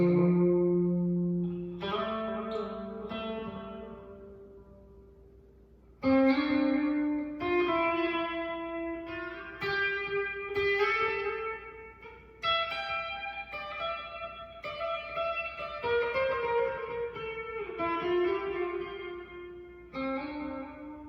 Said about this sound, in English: just going to add just a little bit of delay to it,